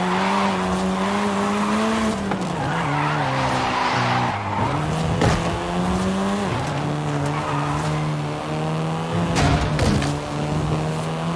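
Volkswagen Golf R, the seventh-generation Golf first released in 2012, driven hard in a racing video game, its engine note rising and falling steadily throughout with loud, repeated tire squeals and skids, no voices.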